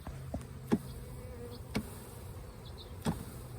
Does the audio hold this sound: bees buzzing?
yes